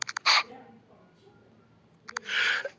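A sneeze sound effect: two quick sneezes, each a short sharp burst with a brief buildup, separated by a quiet pause.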